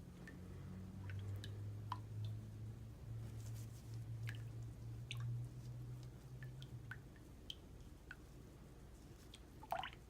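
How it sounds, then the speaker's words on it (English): Calendula and kaolin clay salve stirred in a container, giving faint, soft, wet squishing and scraping sounds repeated at an irregular pace over a low background hum. "Just stir this pretty good."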